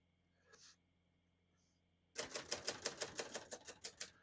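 After near silence with a couple of faint clicks, a 1963 Hermes 3000 manual portable typewriter clacks out a quick, steady run of keystrokes, close and crisp.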